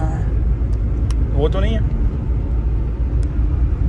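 A BMW 520D converted to M5 spec gives off a steady, close engine rumble that runs throughout, with people talking over it.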